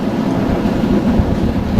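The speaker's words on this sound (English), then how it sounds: "We've got out while the train runs into the station, looking rather impressive against a nice clear sky" A train on the Tatra line rolls through open countryside with a steady, loud rumble and a rhythmic rattle of wheels and carriages. No voices are heard.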